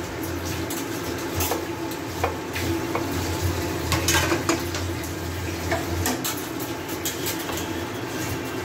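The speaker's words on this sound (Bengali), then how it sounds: "এবার এই তেলের মধ্যে আমি এই 4টে ছোটো এলাচ, 4টে লবঙ্গ দিয়ে দেব" Whole green cardamom pods and cloves fry in hot oil for Old Delhi style chicken korma, giving a steady soft sizzle with occasional clinks and stirring scrapes throughout.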